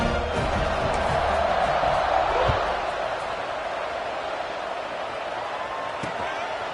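A football stadium crowd at a Louisville vs Kentucky game roars steadily before kickoff, a broad, distant wash of cheering heard under a commentator's voice.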